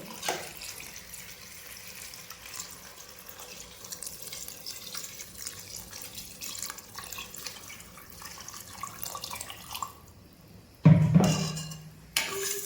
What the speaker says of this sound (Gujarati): આ જરૂર મુજબ પાણી ઉમેરી દઈએ.